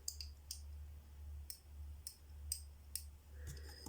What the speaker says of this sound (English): This one makes a kind of a clicking noise.